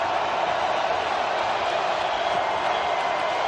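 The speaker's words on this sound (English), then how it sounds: "Crowd again rising as one, as they often do when the defense faces a 3rd down" A stadium crowd at an NFL game between the Buffalo Bills and Miami Dolphins roars as a dense, loud, steady wash of noise while the home defense faces third down, with no break across the whole stretch.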